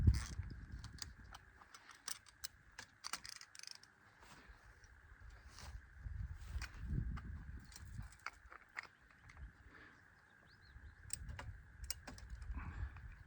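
A socket twists fence wire tight with quiet creaks and irregular clicking ratchet-like ticks, scattered through a soft outdoor background.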